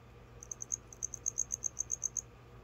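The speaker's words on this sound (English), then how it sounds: "you hear the crickets chirping" Crickets chirping in short, bright pulses, a quick regular series over a low steady hum, fairly faint.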